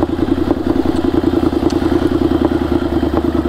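A motorcycle engine runs steadily during a slow leaning turn with the clutch fully released, giving a close, continuous low throb with a rapid pulsing beat and light mechanical clatter. No one speaks.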